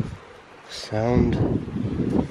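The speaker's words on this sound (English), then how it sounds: "that wind through that valley is a bit biting" Biting winter wind gusts through a valley in the Lake District, a steady rushing roar buffeting the microphone that swells after a short lull, with a voice briefly audible within it.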